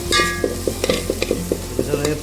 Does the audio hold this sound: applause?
no